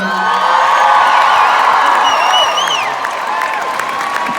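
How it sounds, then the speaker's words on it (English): Concert audience at Radio City Music Hall in New York applauding and cheering, a dense, loud wash of clapping with whoops and shouts running steadily throughout. "y'all give a big round of applause to Haley Witters and Cassie Ashton"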